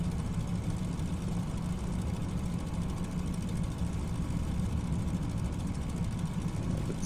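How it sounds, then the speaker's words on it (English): The engine of a Fokker F.VII in Microsoft Flight Simulator 2024 drones steadily as it is throttled up at a beachside taxiway, a constant low, rumbling roar with a faint buzzing edge. "let's push the engine a little bit"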